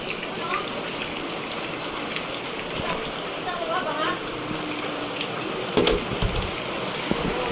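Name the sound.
floodwater and rain in the barangay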